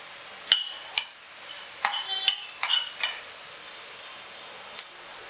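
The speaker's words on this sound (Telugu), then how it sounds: "నేను ముందుగా ఇందులో ఆవాలు, జీలకర్ర, ఇంకా మినపప్పు వేసేసుకుంటున్నాను." Mustard seeds, cumin and urad dal crackle and pop in hot oil for an Andhra chickpea patoli tempering, with sharp spatters and light stirring clinks close by, no talk.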